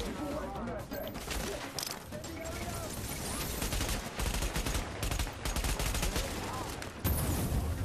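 Continuous loud gunfire and explosions in a firefight in The Division, including a close grenade blast, with sustained dense combat noise throughout.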